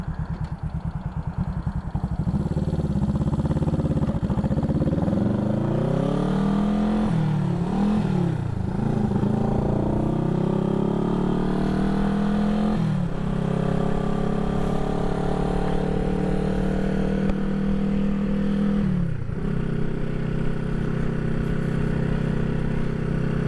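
A 1975 Honda CB360T motorcycle is ridden, its engine note loud and continuous as it rises through the revs, drops at gear changes and pulls up again, with no voices over it.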